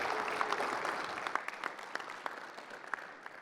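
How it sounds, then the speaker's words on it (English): Audience applause at the close of a conference session on education device management, a fairly faint, brief burst of many hands clapping in a large room that thins out as it goes. "Give them one more round of applause."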